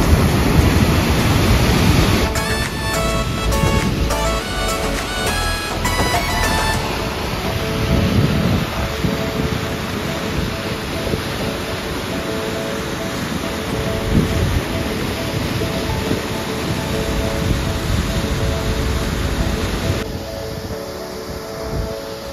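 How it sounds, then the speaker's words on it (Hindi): Heavy rain falls on a chairlift ride near a waterfall at a Scottish mountain resort, a dense, constant hiss with a few brief tonal flutters early on and no talking. "बट उसके बाद बारिश इतनी ज़्यादा हो रही थी"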